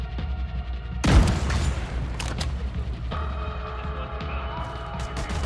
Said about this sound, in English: Put a grenade on the guy on the right